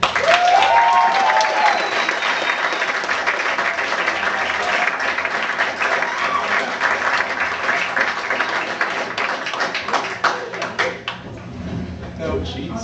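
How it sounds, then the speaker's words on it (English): Sustained audience applause and cheering for a talk show guest, loud and dense from the start, easing slightly toward the end as people begin to talk over it. "join me in giving a warm round of applause to our next guest"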